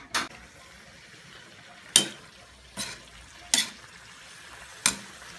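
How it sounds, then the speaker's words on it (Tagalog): Pancit noodles tossed and stirred in a hot cooking pan give five separate sizzling scrapes spaced a second or so apart, close and fairly loud, with a faint hiss between them. "pwede na natin ilagay ang pansit"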